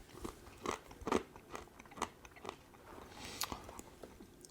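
Someone bites and chews a crunchy barbecue-flavoured Estonian snack with a crisp-like texture, giving close, quiet, irregular crunches and crackles spread across the moment, with no talk.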